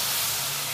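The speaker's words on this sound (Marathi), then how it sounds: "मी आता पाणी घालत आहे." Water is poured into a hot pan holding a vermicelli mixture, giving a brief, loud, steady hiss of steam with no pause.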